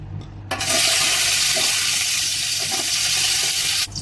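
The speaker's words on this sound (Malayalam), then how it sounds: "അതിലേക്ക് നമ്മൾ ഒരു 2 സ്പൂണ് നെയ്യ് ചേർത്ത് കൊടുക്കാം. സ്പൈസസ് ചേർത്ത് കൊടുക്കാം." Whole spices frying in about two spoons of ghee in a pan for chicken pulao, a sudden loud sizzle bursting in after a short quiet start, holding steady for about three seconds and then cutting off.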